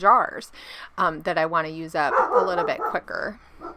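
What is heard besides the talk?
dogs barking in the background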